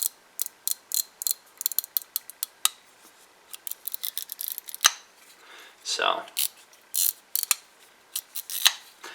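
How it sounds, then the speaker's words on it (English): A Spyderco Navaja folding knife makes dense ratcheting clicks as the blade swings open, crisp rapid ticks in uneven bursts close up, with a quiet voice speaking briefly between them. "this knife's claim to fame is of course the ratcheting sound."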